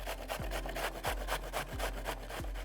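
Carrots being grated by hand on a kitchen grater, heard as a close, rhythmic series of rasping scrapes with a repeated stroke pattern.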